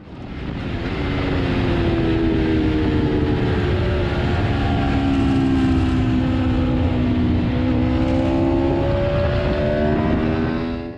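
An Aprilia RSV4 1100 motorcycle laps a race track at a trackday, its loud, steady engine note climbing and falling in pitch as the rider works through the gears, with no voices.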